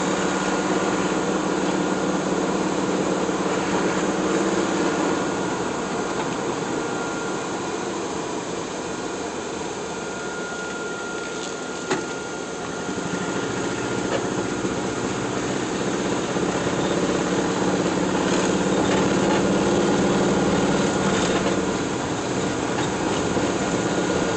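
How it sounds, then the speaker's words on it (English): Car engine revving up under steady acceleration while driving, a loud continuous drone that swells slightly toward the end; the car's air conditioning lacks refrigerant and does not blow cold. "Accelerating a little bit more now, so you'll notice the sound."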